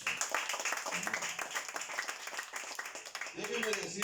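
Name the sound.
audience applause in church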